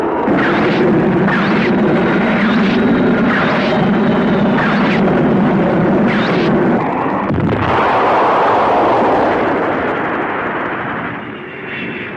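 Heavy, rumbling blasts and booming explosions repeat in quick succession, followed by a sustained roaring rush that slowly fades.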